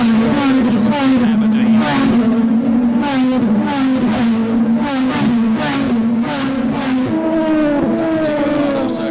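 DTM race cars circuit racing at the Lausitzring, engines droning loudly and continuously with rising and falling pitch as they pass close by, steady and near, with a commentator talking over the racket.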